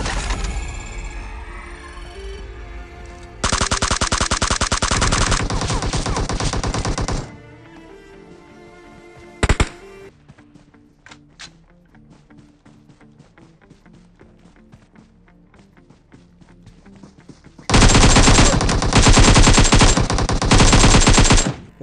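Loud bursts of rapid automatic gunfire from a mobile battle royale shooter, two long sustained volleys separated by a quieter stretch of scattered single shots, tapping and game sounds.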